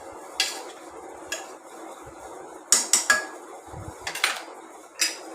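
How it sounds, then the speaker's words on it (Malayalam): Spoon clanking against a metal pot while chicken curry is stirred, a handful of sharp scraping knocks spaced irregularly over a soft background hiss, close and fairly quiet, no talking. "നല്ലവണ്ണം ഇളക്കി"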